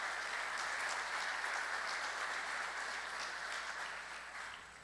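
An audience at an offshore wind energy panel applauds a guest speaker with steady, even clapping at a moderate distance, which fades slightly toward the end.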